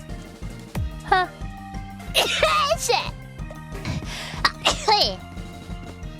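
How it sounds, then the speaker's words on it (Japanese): A few small sneezes burst out between stretches of casual speech, short and sharp against background music, with throat sounds around them. "やばい、くしゃみ出る。"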